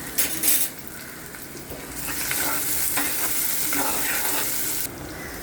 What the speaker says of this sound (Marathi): तोपर्यंत आपण हा कांदा परतत राहायचा